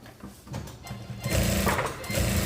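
A sewing machine stitches a seam on a windbreaker jacket in a fashion workshop, its motor rattling softly at first, then running loud and steady with rapid needle chatter up close.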